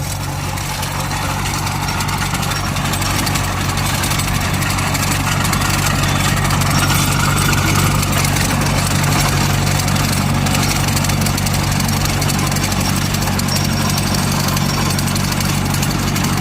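A three-cylinder, 50-horsepower tractor engine idles steadily with a deep, continuous rumble and throb, running alone without a break.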